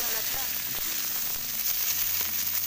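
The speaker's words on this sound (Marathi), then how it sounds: "कांदा चांगला लाल होईपर्यंत परतून घेते" Chopped onion sizzling steadily in hot oil in a kadhai while making chicken keema, a continuous crackling fry with faint voices and kitchen clatter beneath.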